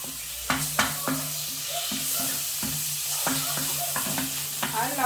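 Spring onion and garlic sizzle and fry in a pan for a prawn and vegetable stir fry, a steady hiss broken by repeated scraping stirs and clinks of a utensil, close by, with no talk.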